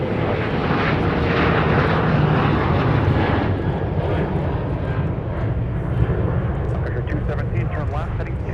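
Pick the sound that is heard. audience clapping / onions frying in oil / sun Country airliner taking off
sun Country airliner taking off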